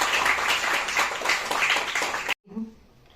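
Audience applause in a college hall at a Delhi University poetry recital, dense and steady clapping for about two seconds, then an abrupt cut to quiet room tone with a brief voice.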